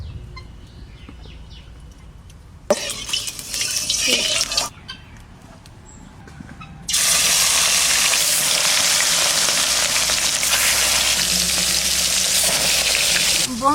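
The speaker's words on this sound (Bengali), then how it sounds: "এবার মাছ ভাজবো কড়াইতে তেল দিয়ে দিচ্ছি" Quiet kitchen noise, then a burst of sizzling, a pause, and a loud steady hiss of fish frying in hot mustard oil in a wok that continues to the end.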